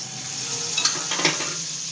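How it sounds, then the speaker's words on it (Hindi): Butter sizzles in a pan as a triple layer sandwich toasts, a steady close frying hiss with a couple of light scraping stirs partway through, no voices. "अब हम इसको पैन में थोड़ा सा हम बटर डालेंगे"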